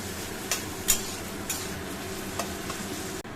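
Carrots frying in hot oil in a pan at home, a steady close sizzle with occasional sharp spatula clicks and scrapes against the pan, no talking.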